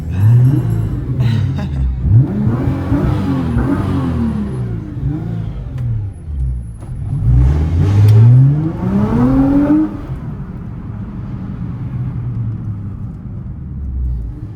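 A Nissan GT-R on an Irish road trip roars past up close with a loud engine rumble, swelling twice as it revs and accelerates, then fading away.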